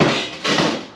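A hammer strikes a centre punch on metal while marking holes for a fire pit build, giving two sharp metallic blows about half a second apart, close and ringing briefly.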